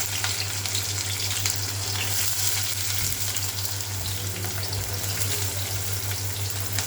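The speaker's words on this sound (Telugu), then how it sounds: "ఆయిల్ కాగిన తర్వాత ఉల్లిపాయలు వేస్తున్నాను." Onions frying in about three spoons of hot oil for a drumstick masala curry, a steady close sizzle with faint stirring scrapes, constant and loud with no voices.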